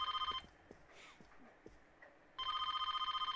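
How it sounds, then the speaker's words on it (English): A telephone rings in the Persona 4 video game with two bursts of bright electronic trilling, one at the start and one near the end, separated by a pause holding faint background sounds. "Don't answer the phone."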